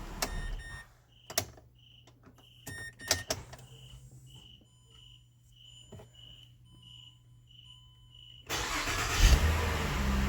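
A steady, evenly spaced electronic beep repeats over a quiet hum with a few clicks, then near the end a Mazda CX-9's starter motor cranks loudly up close.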